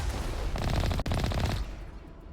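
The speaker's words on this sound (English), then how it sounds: "I may have just destroyed all of them with one Mako blast" A Mako tank fires its cannon in the Mass Effect video game, giving a rapid burst of sharp blasts in quick succession, followed by a rumbling tail in the game audio.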